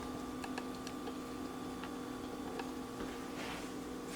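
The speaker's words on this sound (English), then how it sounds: "I'm going to set the timer" A kitchen timer ticks in a steady, quiet rhythm while a pan of zucchini pizza bites sits in an oven set to 400 degrees, with a faint hum in the background and no talking.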